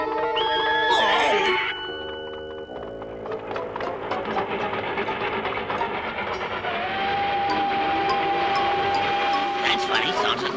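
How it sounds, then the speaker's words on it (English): A cartoon train from the animated series Wowser opens with a bright whistle blast, then settles into a steady rumbling clatter with a sustained ringing tone, all fairly loud and close. "Train's heading in the wrong direction."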